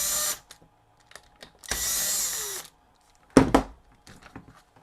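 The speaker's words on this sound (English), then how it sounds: "let's get the screws out of the back of this guy." A power driver backs screws out of the rear panel of a Comfort Zone space heater, with short whirring bursts, one longer run and a sharp rattle, separated by quiet gaps and small handling clicks.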